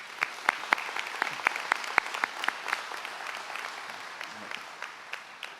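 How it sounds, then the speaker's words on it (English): Audience applause fills a white coat ceremony for physician assistant students, with crisp individual claps in a steady patter that thins and softens toward the end. "Please give them a round of applause."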